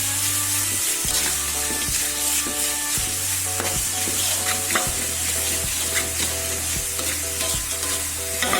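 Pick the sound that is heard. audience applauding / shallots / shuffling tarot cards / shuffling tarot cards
shallots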